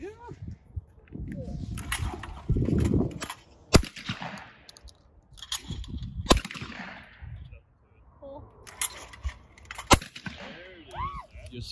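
Shotgun blasts ring out at targets on a skeet and trap course, with several sharp, loud, spaced reports and excited talk and shouts between them outdoors.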